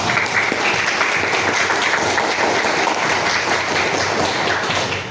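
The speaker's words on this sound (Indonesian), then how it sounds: "Tepuk tangan untuk kita semua" A crowd of students and staff at a Monday school gathering claps together in dense, steady applause that holds strong throughout before easing slightly at the end.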